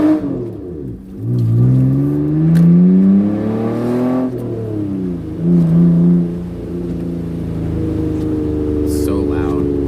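A Mitsubishi Eclipse engine revs up and down repeatedly as it drives, pitch rising and falling through gear changes, loud and close from inside the vehicle.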